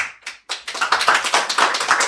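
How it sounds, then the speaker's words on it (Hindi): A seated audience claps, starting with a few scattered hand claps that quickly swell into steady, dense applause, close and fairly loud. "जाहिल लोग तालियां बजा रहे हैं यहाँ बैठ के"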